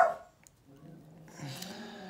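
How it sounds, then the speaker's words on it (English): A dog barks a few times in the background of a quiet indoor room, the yaps distant and fairly faint against low ambient noise. "That's my dog barking."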